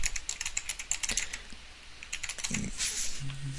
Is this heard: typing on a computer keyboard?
yes